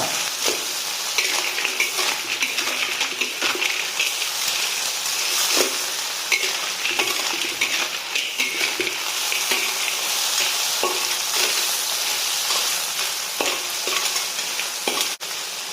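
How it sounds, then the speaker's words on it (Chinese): Luosifen soup base sizzles loudly in a wok after sour water is added, with continuous frying hiss and occasional scraping clinks from a stirring utensil. "继续翻炒"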